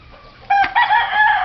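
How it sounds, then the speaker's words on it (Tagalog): Chickens on a Philippine farm: a rooster crows loudly and close by in a raspy drawn-out call, over low background clucking and noise. "Yan ang kabuuan ng ating mga manok."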